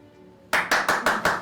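Five sharp, evenly spaced hand claps sound close by in an acting class, after a brief quiet moment with no talking.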